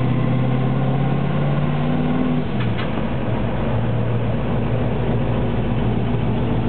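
A red Ford Mustang's engine runs steadily at idle, a loud, even low rumble with a slight shift in tone partway through and no speech over it.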